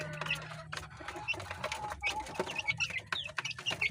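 Pure Dome gamefowl chickens clucking nearby, soft irregular clucks and chirps over faint background talk.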